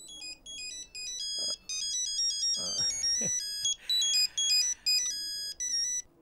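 A mobile phone ringtone plays a repeating bright electronic melody in a Telugu film scene, with brief talk partway through.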